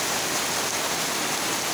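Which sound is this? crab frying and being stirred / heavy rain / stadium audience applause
heavy rain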